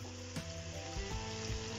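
Chicken tandoori sizzles in a frying pan over a high gas flame, a steady loud crackle with a few sharper bursts as pieces shift, no voices.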